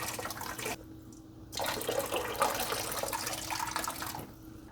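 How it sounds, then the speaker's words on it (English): Cooking water being poured off a pot of boiled Vifon hot lobster instant noodles, a steady splashing pour into a sink that starts after a short pause and runs loud and continuous for about three seconds, with no talking. "All right, I'm gonna take the noodles off. I'm gonna drain some water."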